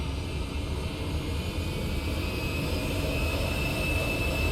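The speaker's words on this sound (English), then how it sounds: "Yeah, there goes the reversers." A JARDesign A320 in the X-Plane 10 flight simulator deploys its thrust reversers, producing a loud, steady jet roar with a rising whine that holds evenly and close for several seconds with no talk.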